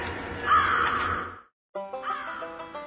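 Crows cawing in a Halloween scarecrow costume preview, harsh raspy caws in two bursts separated by a brief silence, fairly close.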